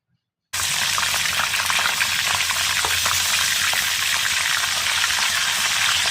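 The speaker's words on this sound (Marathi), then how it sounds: "तेल छान गरम झालेलं आहे त्यामध्ये आपण वटाणे छान तळून घेऊया" Green peas frying in hot oil, a loud, dense, continuous crackling sizzle that starts abruptly after a brief silence and holds steady, close up with no talking.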